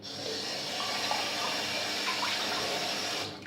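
Cold tap water runs steadily into a sink as a man rinses his face after a shave, a continuous close splashing hiss that holds for several seconds and then cuts off.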